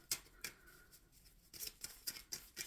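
Quick papery flicks and riffles of tarot cards being shuffled, close by and soft, in a short burst of irregular strokes.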